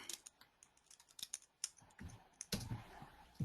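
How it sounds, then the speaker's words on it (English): Typing on a computer keyboard comes as a quick, uneven run of close, crisp key clicks that turns into louder, denser clatter toward the end. No one speaks. "I'll type it."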